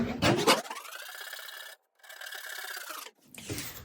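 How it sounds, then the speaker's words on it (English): Wooden plugs on a wooden planter are sanded with a close, abrasive rasping that runs in two bursts separated by short breaks, with no one talking. "I'll do a little bit of sanding on these."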